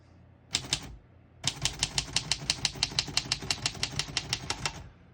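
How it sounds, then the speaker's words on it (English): A 1936 Royal Model O portable typewriter clacks: two keystrokes, a short pause, then a fast, steady run of about twenty sharp, close key strikes. "We're going to keep it on single and finish typing."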